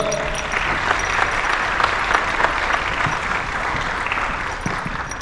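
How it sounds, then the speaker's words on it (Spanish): At a music festival event, a crowd applauds the guests with steady, dense clapping that holds at an even, fairly loud level throughout. "Un aplauso para ellos."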